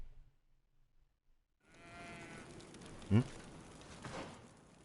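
Sheep bleating in the video game GreedFall at a forest camp, one loud, close bleat standing out after silence, then a second fainter call against a low ambient bed.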